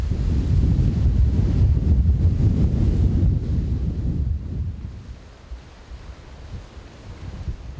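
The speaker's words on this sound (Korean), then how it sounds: "파도는 험상궂은 모습으로 바다를 몰아붙인다." Rough sea off a Jeju Island harbor in rainy, stormy weather: heavy wind buffets the microphone over a deep rumbling surge of waves, loud at first and then easing to a lower, gusty roar.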